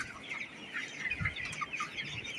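Chickens on a poultry farm holding about three thousand birds cluck steadily and overlap one another, a dense and fairly close flock chorus with no talk.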